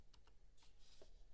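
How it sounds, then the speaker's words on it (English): Quiet bursts of keystrokes on a computer keyboard, a few separate clicks and short clusters of typing, fairly faint and close. "I'm typing in what my buddy sent me."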